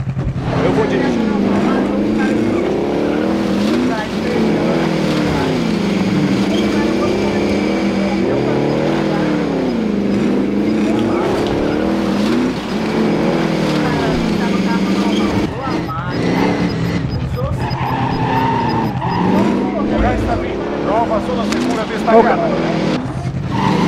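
A video game car engine revs and drones loud and close for a long stretch, its pitch rising and falling in repeated sweeps as it accelerates and shifts, with tires squealing and people talking over it.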